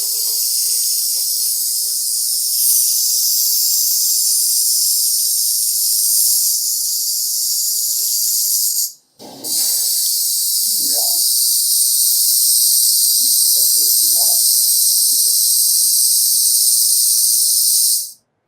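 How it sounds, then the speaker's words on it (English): A rattlesnake shaking its tail rattle makes a loud, continuous high buzzing hiss that runs steadily for several seconds, breaks off briefly, then resumes and continues, with faint lower background sounds beneath. "This is a rattle from a rattlesnake."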